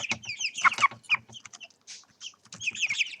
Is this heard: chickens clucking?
yes